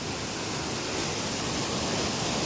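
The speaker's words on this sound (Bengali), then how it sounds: "জলের কি স্রোত জলের কি কোলাহল" Rushing stream of water near a fishing spot beside a canal and waterfall in a cashew forest, a steady dense roar filling everything, close and loud without a break.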